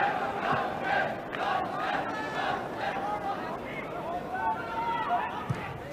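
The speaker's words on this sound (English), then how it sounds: "a small crowd here at Swansea, but they were appreciative of Lund's attempts to drive a shot on target" A small football crowd at Swansea, at a Wales–Norway Euro 1984 qualifier, gives a sustained, rising murmur and shouts of appreciation for a shot attempt, a distant, diffuse roar that holds steady across the moment.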